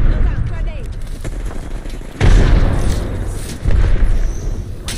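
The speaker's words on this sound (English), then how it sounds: "Look out, grenade." Grenade explosions in the Apex Legends video game: two sudden heavy booms burst out of ongoing game noise and gunfire, each one loud and close, with voices talking over the action.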